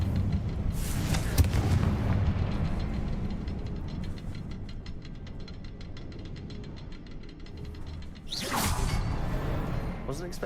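Two loud whooshing blasts from the Confringo fire spell in Hogwarts Legacy open and close the stretch, with a rumbling, rattling bed of game noise in between.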